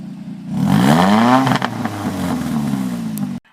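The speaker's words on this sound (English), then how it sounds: "And we got a full custom exhaust on this vehicle." A 2005 Ford Focus ZX4 with a full custom exhaust revs up hard, its engine note sweeping upward in pitch, then settles into a rough, loud idle before cutting off abruptly at the end.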